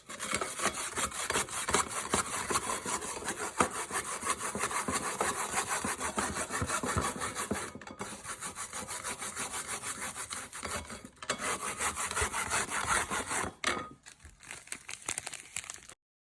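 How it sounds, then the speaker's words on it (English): Frozen milk grated into flakes for mango bingsu, a close, continuous scraping and crunching with brief pauses between strokes near the end. "You can either grind it in a grater like this"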